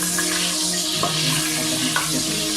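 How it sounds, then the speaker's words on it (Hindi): Whole spices sizzle in hot oil in a pan for a Pakistani-style potato and mutton curry, a steady close frying hiss with a few stirring scrapes and no talk. "तेल जो है वो गर्म हो जाए तो हम इसके अंदर साबुत मसाले ऐड करें।"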